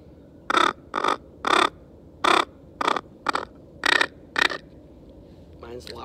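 Rapid rolled-tongue bursts on a mallard call imitate a diver duck: eight short, loud, buzzy notes in a quick irregular rhythm, close to the listener.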